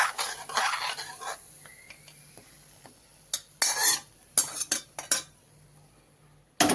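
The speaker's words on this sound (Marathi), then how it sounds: "ही सगळी अशी मिसळून घ्यायची" A spoon stirs curd kadhi in a metal pot, producing bursts of scraping and clinking, with quieter gaps between them and loud clinks near the end.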